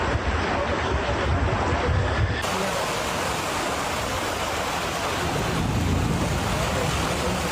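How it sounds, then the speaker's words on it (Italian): A small river swollen in flood rushes past a narrow road, a dense, steady roar of turbulent water with wind buffeting the microphone, loud and unbroken. "piccolo fiume in piena che scorre"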